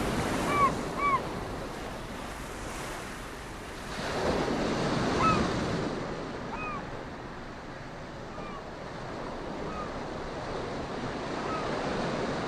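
Ocean surf on a tropical island beach, with steady wave wash swelling and easing, a louder surge in the middle, light wind across the microphone and faint bird chirps above the water.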